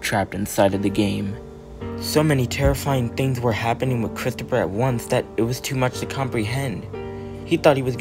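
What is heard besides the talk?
None of the usual background noises is heard.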